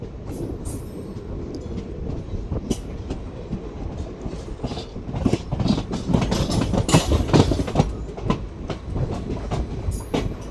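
The 07664 Jalna–Parbhani festival special train rolls along the rails on the loop line at Ranjani railway station, a steady close rumble with rhythmic clickety-clack wheel beats and occasional metallic squeals throughout.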